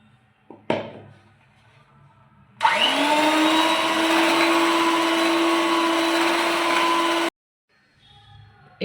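An electric mixer beats egg whites with powdered sugar for a rose milk sponge cake. A brief clatter comes first, then a loud, close, steady motor whine runs for about four and a half seconds and cuts off abruptly.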